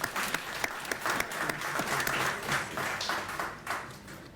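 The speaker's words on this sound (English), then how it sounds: "so let's give him a round of applause." Audience applause at a Kalinago Development Fund launch event, welcoming a newly sworn-in Kalinago Council member: dense, steady clapping from a gathered crowd, sustained at even strength for about four seconds.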